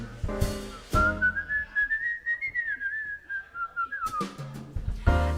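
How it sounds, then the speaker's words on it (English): Someone whistles a short, gliding tune that rises and falls smoothly, with soft jazz instrumental notes before and after. "I'd whistle a little tune"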